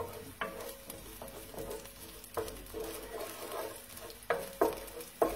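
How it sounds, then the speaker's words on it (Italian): Onion softening in olive oil in a pan, a steady low sizzle with intermittent scrapes and taps as it is stirred, close and fairly quiet. "adesso io sto facendo appastire la cipolla"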